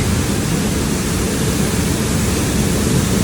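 Mark Branch Falls, a waterfall in McCreary County, Kentucky, pours with a steady, loud broadband rush, close and continuous with no breaks or voices.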